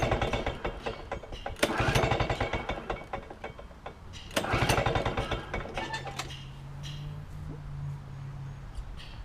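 A small lawn mower engine is pulled over and sputters in repeated rough bursts of cranking, catching briefly and then fading into a low uneven idle, all close by.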